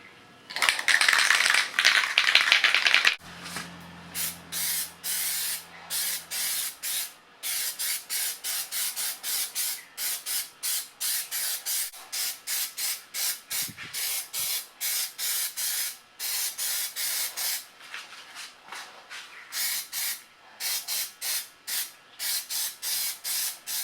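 An opening long hiss of spray, then a long series of short, even spray-can bursts of Plasti Dip onto a car rim, close and alone, with brief pauses between them.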